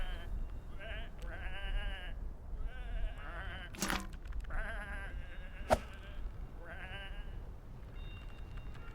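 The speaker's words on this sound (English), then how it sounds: "Come on, these are just sheep." Sheep in the video game Whateverland bleat in a string of quavering calls, several distinct bleats spaced over several seconds, moderately loud with faint clicks in between.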